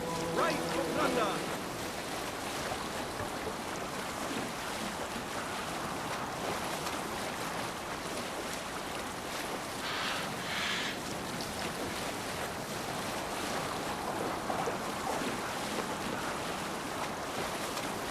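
A Viking sailing ship crosses open sea in Assassin's Creed Valhalla, with a steady rush of wind and waves and no speech.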